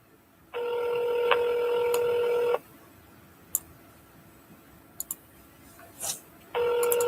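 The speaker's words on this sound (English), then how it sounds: "I'm double dialing her." Telephone keypad dialing tones sound as one long steady dual-tone stretch of about two seconds, then a quiet gap with small clicks, then another tone starts near the end. Nobody speaks.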